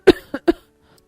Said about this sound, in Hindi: कब से देख रही हूँ खांस रही है?